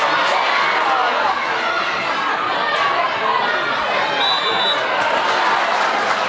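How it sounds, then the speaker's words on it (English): Crowd at a junior camogie championship final at Kingspan Breffni, Cavan, roaring and cheering steadily throughout, a dense, continuous wall of spectator noise with chatter mixed in. "the crowd have really come to life"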